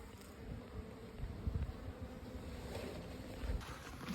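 Bees of mixed dark and lighter colouring fly around an abandoned hive. A faint, steady buzzing hum with soft fluttering continues throughout, with no voices.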